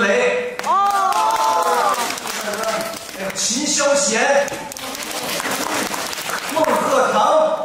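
A theatre crowd at a Deyunshe crosstalk show in Nanjing cheers and applauds steadily, a broad rolling wash of clapping and shouts that runs the whole time beneath someone speaking.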